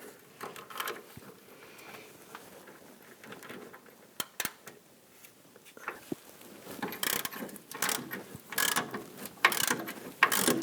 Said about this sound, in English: put my ratchet on the nut side here